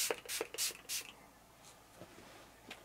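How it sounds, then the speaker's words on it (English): Four quick hissing spritzes from a fragrance mist sprayer in close succession, then near quiet with faint rustling. "I'm just going to give it a spray"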